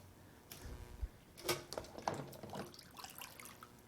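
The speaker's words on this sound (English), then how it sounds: "Cleaning out all the soapy water out of the inside and the outside." Water rinsing soapy trombone parts inside and out during cleaning, with splashing and dripping bursts, a few sharp clatters, moderately close and fairly quiet, no voices.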